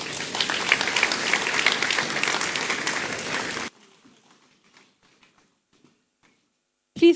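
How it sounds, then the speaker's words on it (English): Audience applause at a church health conference, a loud, dense burst of clapping from a crowd that stops abruptly, leaving near silence with a few faint sounds. "Please keep clapping one more time"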